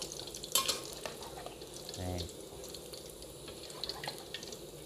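Thai fried fish cakes sizzling in hot oil, a steady low crackle and bubbling with occasional scraping stirs and a brief clink, fairly quiet and without talk.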